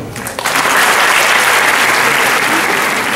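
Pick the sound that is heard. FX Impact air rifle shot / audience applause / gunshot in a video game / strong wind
audience applause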